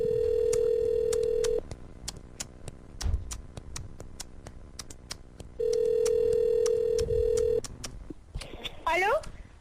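A telephone rings on an outgoing call during a live radio show, with two long steady ring tones separated by a pause. Faint clicks sit underneath, and a brief voice sounds at the end.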